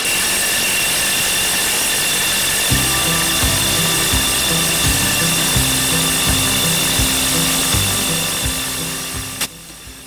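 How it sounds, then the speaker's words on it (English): A diamond-tip core bit drills through brick, its loud grinding whine steady throughout, with a rhythmic low thumping pulse starting partway in and the sound tapering near the end. "these diamond tip core bits, they drill pretty fast and they give you a nice hole"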